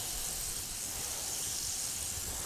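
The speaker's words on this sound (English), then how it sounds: "once that butter just kind of starts to sizzle and melt and brown just a little bit" Butter sizzles steadily in a hot pan as striped sea bass crusted with pistachio panko cooks in a culinary school kitchen, a constant bright hiss with no talking.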